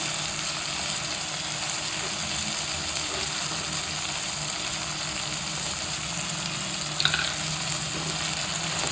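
Bitter gourd pieces fry in a pan with a steady, close hiss and crackle of sizzling oil, running unbroken throughout with one brief clink partway through.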